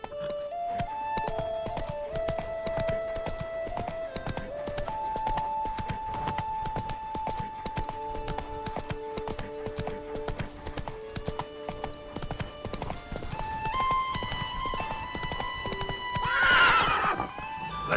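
Roach, the horse from The Witcher 3: Wild Hunt, gallops with a steady rapid clip-clop of hooves beneath layered game music, and a brief whinny rises near the end.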